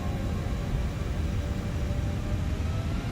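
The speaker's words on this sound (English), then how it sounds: "Those beautiful engine sounds." Toliss A340-600 jet engines in X-Plane 12 humming at a steady roar on a runway, a constant broadband rumble and hiss with a faint tonal whine, close and unchanging, with no talking.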